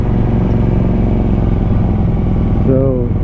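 Motorcycles in a large group ride along a highway, a loud continuous engine roar close to the microphone, with a voice briefly talking over it near the end.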